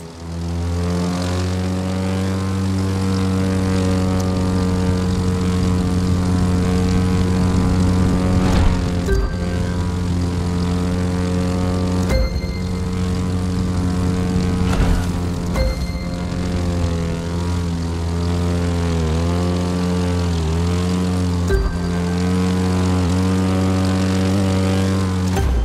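A propeller airplane in the racing video game The Crew 2 drones loudly and continuously, its steady engine hum and prop buzz shifting slightly in pitch as it flies low, with no talking.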